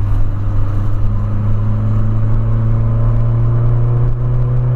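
Volkswagen Polo with a custom exhaust idles and revs, a loud, steady low engine drone with a strong deep harmonic and slight rising pitch holding through the whole stretch, no talk over it.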